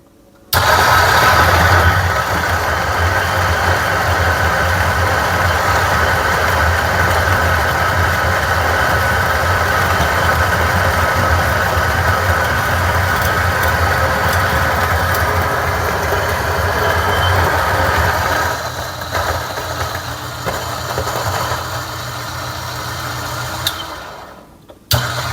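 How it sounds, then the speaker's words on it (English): Espresso grinder, likely paired with a Lelit Bianca V3 setup, grinding Starbucks Veranda Blend blonde roast beans, a loud, steady, close whirring drone for about twenty seconds that drops slightly near the end before stopping. "since I cannot adjust the volume of the grinder when it's grinding"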